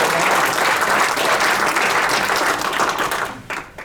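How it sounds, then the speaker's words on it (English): Audience applause at a Detroit celebration honoring a longtime fire department chaplain, loud and sustained dense clapping for several seconds before thinning and tapering off near the end. "That's when you clap right there."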